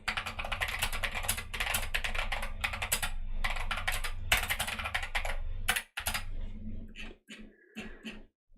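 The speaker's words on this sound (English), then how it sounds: "Oh, and of course I'm typing in the wrong screen." Rapid typing on a computer keyboard, dense clattering keystrokes close up for several seconds, then a pause and a few scattered taps.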